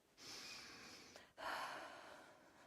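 A patient in the medieval video game Kingdom Come Deliverance 2 takes two deep, slow breaths, a long inhale and then an exhale, heard faint and close with no speech.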